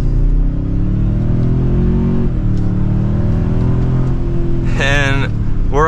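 A 2024 Toyota Sequoia Platinum with a smaller engine accelerates from second gear, heard from inside the cabin as a loud, steady, rising engine drone and a shift, with brief talk near the end.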